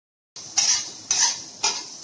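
Coriander and cumin seeds dry-roasting in a hot pan, stirred in three distinct scraping strokes, each a crisp rustling sweep with short pauses between, close and fairly loud.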